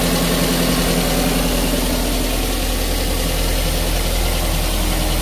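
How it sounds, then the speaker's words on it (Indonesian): A 2015 Daihatsu Gran Max 1.3 pickup engine idles smoothly and steadily, a close, even hum with low rumbling and no roughness or change in pitch throughout. "Mesin masih bagus, dalam arti tidak ngasap dan tidak ada suara-suara yang kasar ya, masih halus"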